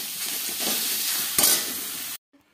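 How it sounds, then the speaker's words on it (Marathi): Vegetables sauté in hot oil in a pan with a steady, close sizzle and occasional stirring scrapes, then the sound cuts off abruptly near the end. "तर त्याला आधी व्यवस्थित परतून घेऊ भाजी।"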